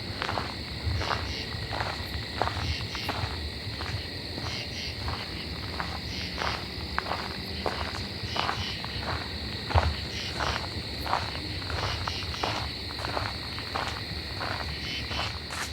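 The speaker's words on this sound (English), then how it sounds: "Now we're hearing lots of fall crickets" A steady high-pitched insect trill runs throughout, with a chorus of fall field crickets chirping in a regular pulsing rhythm alongside soft footsteps crunching through grass.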